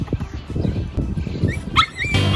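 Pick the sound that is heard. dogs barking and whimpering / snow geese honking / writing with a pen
dogs barking and whimpering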